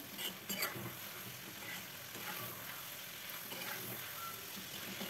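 Chicken frying with spices in a pan for white karahi gives a faint, steady sizzle with occasional scraping and clinking, no voices.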